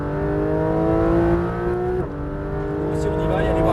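Porsche 991 GT3 RS racing on the Le Mans circuit, its engine holding a loud, steady high-revving wail, then dipping briefly through a quick gear shift before climbing again, with no voices over it.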